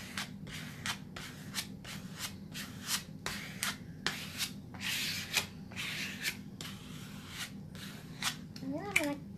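Decoupage paper smoothed out with a card on a mixed media pumpkin painting, giving soft repeated rubbing and scraping strokes in a quick irregular rhythm, close and quiet.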